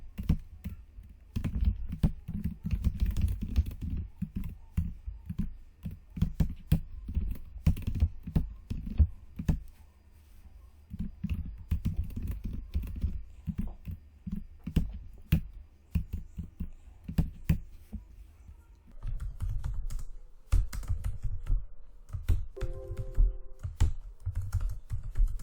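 Python code being typed on a computer keyboard, with dense bursts of close key clicks in uneven runs, brief pauses between flurries and no talk.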